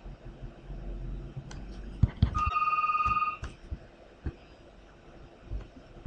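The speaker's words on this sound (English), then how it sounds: "the phone's ringing." A telephone rings with a bright electronic trill, one ring burst standing out clearly over faint room noise and a few scattered clicks.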